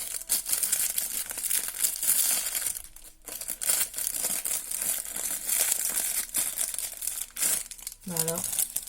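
Paper wrapping from a shopping haul crinkles and crumples almost continuously, close and loud, with brief pauses and a short voice heard near the end.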